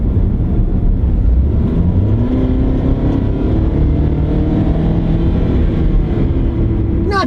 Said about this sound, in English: We'll get it going down the straightaway here, give it some gas.